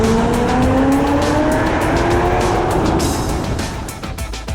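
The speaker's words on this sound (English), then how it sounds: "A Corvette goes into a tunnel." Corvette roaring into a road tunnel, loud sustained engine note with a rising tonal whine and reverberant rush, staying close and powerful before easing slightly at the end.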